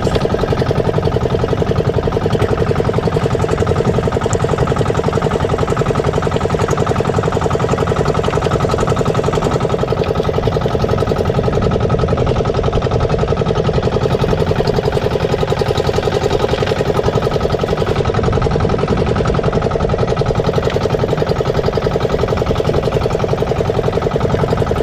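A crabbing boat's engine runs steadily at sea, a loud continuous mid-to-low drone with a constant hum and no pauses throughout.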